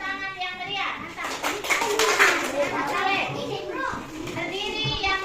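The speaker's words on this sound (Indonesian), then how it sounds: "Kita berikan tepuk tangan yang meriah." A classroom of children clapping to welcome group 1 forward, enthusiastic scattered applause mixed with lively kids' chatter and a teacher's voice throughout.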